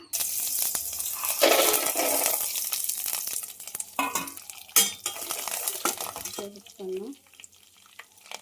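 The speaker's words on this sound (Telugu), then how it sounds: "పల్లీలు, జీలకర్ర, కరివేపాకు మొత్తం అయితే బాగా వేగేంత వరకు యాగని చేసేసుకున్నాం" Peanuts, cumin, curry leaves, dried red chillies, urad dal and mustard seeds frying in tempering oil sizzle steadily, with a spoon stirring and scraping the pan, then the sizzle fades as a voice talks briefly.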